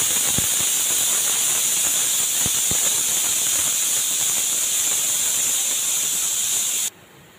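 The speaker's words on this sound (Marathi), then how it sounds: "इथे गॅसवर कुकर ठेवायचा आहे आणि 7 ते 8 शिट्या आपल्याला करून घ्यायच्या आहेत" A pressure cooker cooking black chana on a gas stove lets out a loud, continuous steam hiss that holds for about seven seconds and then cuts off abruptly.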